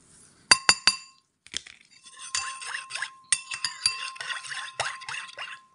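Glass clinks sharply a few times as yeast goes into warm water in a glass, followed by a string of small taps, clinks and faint pours close by while bread dough ingredients are readied.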